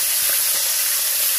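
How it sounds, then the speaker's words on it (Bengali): Tilapia fish heads fry in hot oil in a village kitchen, a steady loud sizzle and hiss with faint pops and crackles throughout, no voices. "আস্তে আস্তে আগে মাথাগুলো ভেজে নেবো।"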